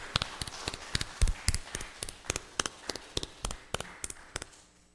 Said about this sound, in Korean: 우리 박수로 한번 영광을 올려드리십시오